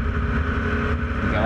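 Onboard a Formula Vee race car accelerating out of a corner on a Queensland circuit, the engine a steady, loud, close drone with a dense low rumble throughout.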